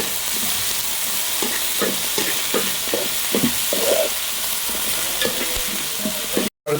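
Onion, tomato and shallots sauté in a hot pan, a continuous close sizzle punctuated by rhythmic scrapes and taps of a stirring spoon.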